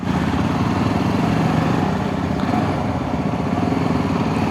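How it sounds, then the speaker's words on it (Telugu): A 2026 Yezdi Adventure motorcycle engine runs close by with a loud, steady exhaust rumble, continuous throughout without pauses. "ఎగ్జాస్ట్ సౌండ్ అయితే చాలా బాగుంది."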